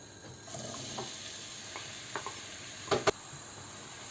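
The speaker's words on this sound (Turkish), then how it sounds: "soğanlarımı şöyle bir soteleyeceğim." Soft, steady sizzling of chopped onions sautéing in olive oil, with a few faint stirring clicks and scrapes, no talking.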